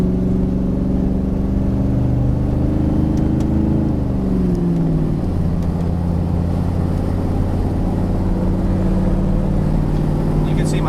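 Pickup truck cruising at about 70 miles an hour on the highway, a loud steady engine drone and road roar inside the cab, with a gear or pitch shift partway through.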